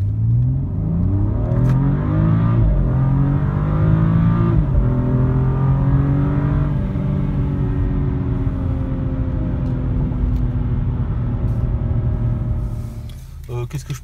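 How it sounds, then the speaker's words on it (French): A BMW 435i Gran Coupé engine (306 hp) revs up loudly and steadily, its pitch climbing through the gears over a sustained acceleration, close and dominant throughout. "je vais vous mettre une petite accélération"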